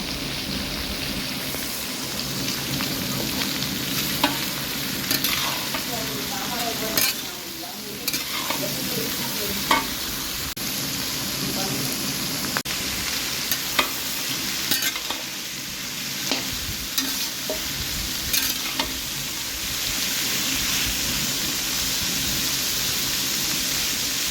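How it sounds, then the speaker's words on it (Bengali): Mutton frying in a pan, a dense, rain-like sizzle that runs steadily throughout with scattered clinks and scrapes of stirring, close and fairly loud. "মাটন রান্না চলছে"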